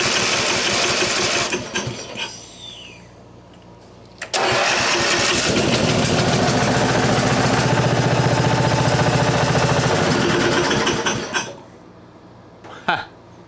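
1991 Mastercraft riding mower's small engine fed mixed two-stroke gas, heard cranking and then catching into a loud, rough, close running rattle for several seconds before cutting off, with a voice briefly audible.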